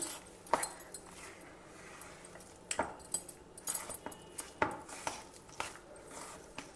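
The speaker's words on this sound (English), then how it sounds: "Now mix it all well together once again." Veg cutlet mixture being mixed with two tablespoons of breadcrumbs in a bowl, with a few sharp utensil clinks and scrapes at irregular moments over soft, quiet shuffling.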